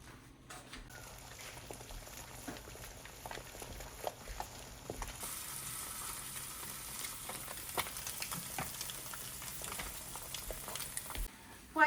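Eggs seasoned with salt and pepper frying in a pan: a steady, close sizzle with scattered pops and light scraping throughout, no talking.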